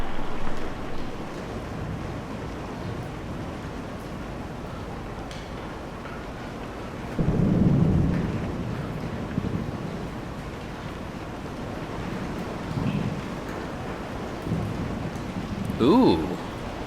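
Rain falls steadily with low rumbles of thunder swelling and fading in a stormy scene from the video game Kentucky Route Zero, a continuous wash of sound with a few heavier surges.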